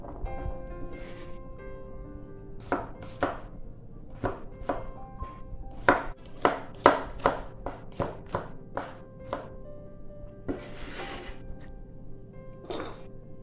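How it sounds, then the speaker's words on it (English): A knife rough-chops garlic on a cutting board, giving a series of sharp, uneven thuds that come in quick bursts with short pauses, close and clear with no talking. "Cut the garlic into smaller pieces. Rough chop as well."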